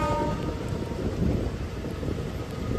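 A deep, steady rumble of a train passing beneath a road bridge, muffled and continuous, with a low roar that swells slightly without any voices.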